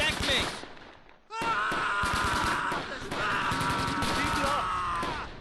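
Rapid machine gun bursts and scattered gunshots crackle through a World War II battle in the strategy game Close Combat Gateway to Caen, set at Tourville in Normandy, 1944. The fire starts faint, then swells into a dense, sustained barrage that stays loud to the end.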